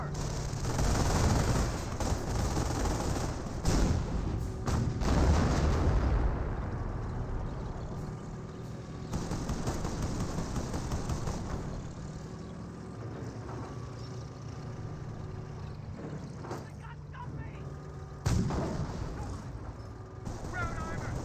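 Anti-tank gunfire rings out amid a Company of Heroes 1 battle, with bursts of shots and rumbling combat noise building and fading over a continuous backdrop while a voice talks throughout.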